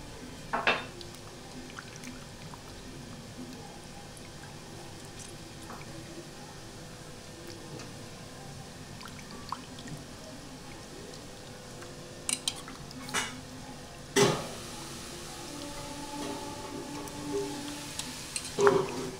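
Desi chicken pieces being washed and squeezed in water in a bowl, with faint sloshing and squishing plus a few sharp clinks of metal on metal, quiet and close, with a voice talking at times.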